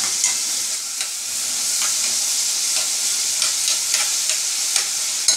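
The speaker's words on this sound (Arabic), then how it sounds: "البصله دي هخليها تاخد اللون البامبي بقى اللي هو المظبوط" Onion frying in a mix of oil and ghee while being stirred, a continuous bright sizzle with scattered scraping strokes of the utensil, close and steady, no voices.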